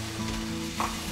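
Masala mixture for more kuzhambu simmering in a pan with a steady, close sizzle and frying crackle throughout, with a brief brighter hiss near the end and no talk.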